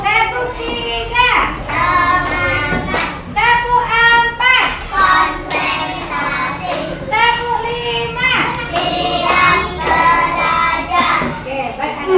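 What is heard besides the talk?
schoolchildren clapping a counted rhythm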